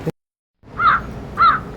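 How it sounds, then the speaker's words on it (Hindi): A crow caws twice in the sky in Nagaland, clear and fairly loud, with a brief pause between calls against faint background noise. "इस समय शायद ये आसमान में कौवे की आवाज़ है।"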